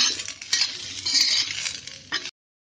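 A spoon scrapes and stirs sliced ivy gourd (tendli) shallow-frying in a pan, giving steady sizzling with clinks of metal on the pan, then a sharp final scrape before the sound cuts off.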